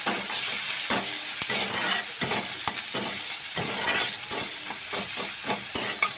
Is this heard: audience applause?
no